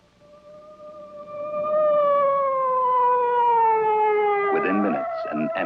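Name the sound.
ambulance siren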